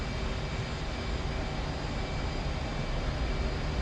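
A jet aircraft engine in the DCS combat flight simulator roars as an F-14, F-16 or F-18 takes off from a taxiway, a continuous dense broadband rumble and whine holding steady throughout with no talk.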